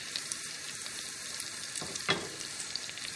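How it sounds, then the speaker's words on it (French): Thick polenta patties fry in foaming butter, giving a steady, close sizzle with small crackles and a stronger burst of spattering midway. "je fais dorer mes gros palets de polenta dans le beurre mousseux, mais pas noisette"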